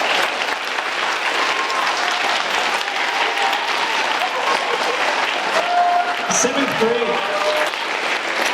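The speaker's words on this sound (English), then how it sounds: "Let's give all our veterans another round of applause." School assembly audience applauding veterans on Veterans Day, a steady dense wash of many hands clapping throughout, with faint crowd murmur and a few brief tonal sounds near the end.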